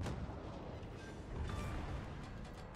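Dense, continuous rumbling barrage of warship naval guns in World of Warships Legends, with booming salvos overlapping into a steady roar at close range for the whole stretch.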